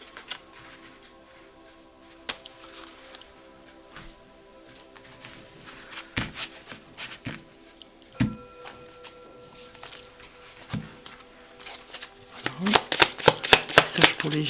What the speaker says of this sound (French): Je vais mettre les cartes comme ça, je les prépare à l'avance.